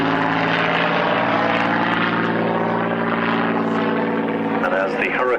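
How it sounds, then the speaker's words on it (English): Hawker Hurricane fighter flying at an airshow, its propeller engine a loud sustained droning roar close by, with a commentator's voice over it. "As the Hurricane departs"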